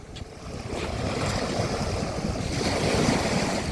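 Steady rush of sea waves breaking and churning, with wind buffeting the microphone throughout and no voices.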